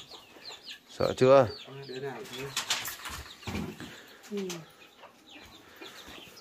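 Chickens clucking and squawking inside a house, close and busy, with loud agitated calls and a brief flutter, while a person speaks briefly over them.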